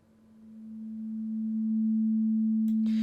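A synthesizer oscillator's pure sine wave at 220 Hz, a steady unwavering tone that swells slowly from faint to full, with a brief burst of hiss near the end.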